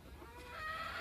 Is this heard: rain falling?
no